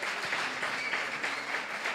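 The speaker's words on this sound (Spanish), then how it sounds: "Otro aplauso más." Steady audience applause fills the room, a dense wash of many hands clapping at once at an even level throughout, with no voices rising above it.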